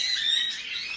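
Pet birds in an enclosed home aviary squawk in a continuous, shrill, high-pitched stream, close and fairly loud throughout the second with no talking.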